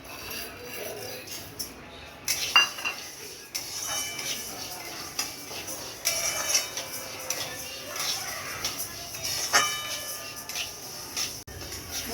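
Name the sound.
dry-roasting mung dal in a wok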